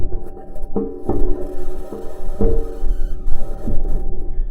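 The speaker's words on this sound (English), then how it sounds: "This is the sound of the rover driving on Mars." Metallic clanks and scraping clatter of a Mars rover's metal wheels rolling over rocks on Mars, several sharp knocks over a continuous grinding hum and low rumble.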